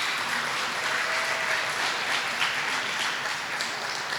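Sustained audience applause for teachers honored as Outstanding Teacher of the Year at a school district ceremony, a steady dense wash of clapping that runs evenly throughout without voices.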